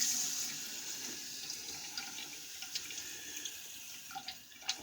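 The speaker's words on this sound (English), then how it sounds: "Wash down the caramel popcorn residue." Tap water runs steadily into a sink to rinse away caramel popcorn residue, a soft continuous splash with occasional drips and clinks, alone and fairly quiet.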